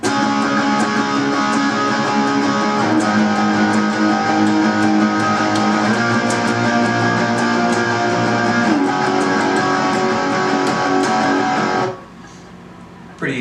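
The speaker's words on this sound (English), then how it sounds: "Second part's going to be all power chords." Distorted electric guitar power chords chug through a rock intro riff, dense and loud with steady rhythmic strums for about twelve seconds before cutting off to quiet ringing.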